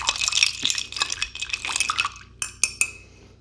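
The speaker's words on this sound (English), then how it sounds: "We're going to stir this a little bit just to get it cold." A cocktail is stirred in a glass to chill it, giving close, busy clinking and scraping of ice and spoon, followed by a few sharp separate clinks at the end.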